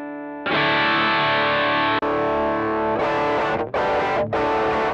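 Overdriven electric guitar through a Boss ME-80 with the cabinet emulator switched off, sounding harsh and fizzy: a sustained distorted chord, a second strum, then three short choppy bursts, played alone.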